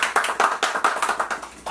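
Audience clapping at a talk-show taping, a steady series of about a dozen distinct, fairly close claps in even rhythm with no talk over them.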